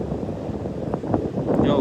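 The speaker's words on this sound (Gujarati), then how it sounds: "પવન બહુ છે. હવે વિડીયોમાં અવાજ આવીએ પવનનો" Strong shoreline wind buffets the microphone, a loud low rumbling roar that rises and falls briefly.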